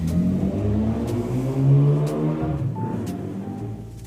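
A motorcycle passes by outside, its engine droning and revving with a rising and falling pitch at moderate distance, then fading away over a few seconds.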